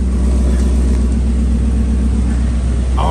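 A car in neutral rolls backward down a steep driveway incline, making a steady low rumble and broadband road noise without pause, with a brief faint squeak just before the end.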